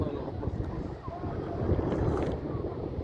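Strong wind roars and buffets the microphone in a constant, dense rush during a sandstorm in Saudi Arabia, with faint whistling gusts over the low rumble.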